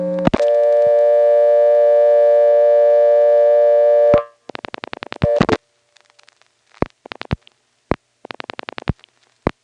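A telephone exchange's incoming selector from a 1977 Step-NX1 setup in Siler City, NC, holds a steady dial tone for about four seconds, then breaks into clusters of rapid clicking pulses and short bursts.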